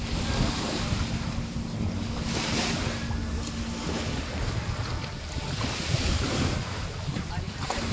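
Sea waves and wind at a beach in Alcoy, a steady broadband wash of surf with gusty wind buffeting the microphone, loud and continuous, with faint voices beneath.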